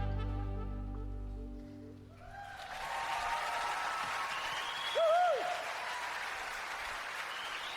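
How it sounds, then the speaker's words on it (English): An audience breaks into sustained applause for a saxophone solo, rising after the music fades and continuing as a dense, moderately distant wash of clapping with faint crowd noise. "Everybody stopped just to applaud him"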